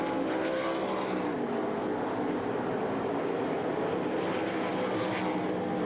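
Sprint cars at the Knoxville Nationals race side by side around a dirt track during qualifying, a loud, continuous engine roar that swells and fades slightly as they pass, with no talk.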